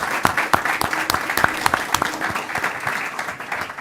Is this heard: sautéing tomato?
no